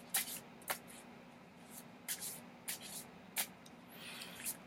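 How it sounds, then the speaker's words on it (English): Flexible Marseille tarot cards are shuffled in a series of quick, soft riffling bursts, close and fairly quiet, with pauses between them. "They almost flex right out of your hands when you shuffle."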